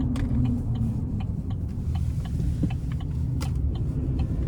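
The turbocharged 2024 Chevrolet Silverado 1500 Trail Boss pickup accelerates with a steady low engine rumble heard from inside the cab, holding constant over several seconds with faint ticking above it.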